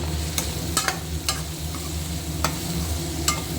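Raw plantain pieces fry in a pan, a steady low sizzle running throughout with a few sharp scrape-and-clack stirring strokes scattered over it, close and moderately loud with no voices.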